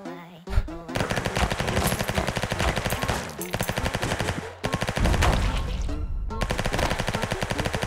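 Rapid machine-gun fire from the video game Son of a Gun rattles in long, dense bursts that are loud and close, broken by a few short pauses.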